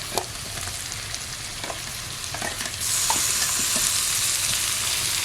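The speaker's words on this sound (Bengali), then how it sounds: "এই রসুন বাটা দেবো আদা বাটা দেবো টমেটো কুচি দেবো" Garlic paste, ginger paste and chopped tomato fry in a pan with a steady sizzle and a few scraping stirs, the hiss swelling louder partway through as the wet ingredients hit the hot oil; no one speaks.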